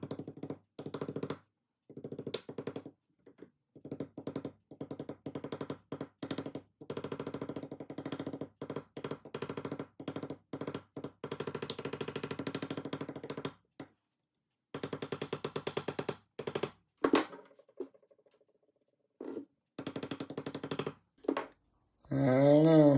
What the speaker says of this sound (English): My plan is to gently tap the surface with a ball peen.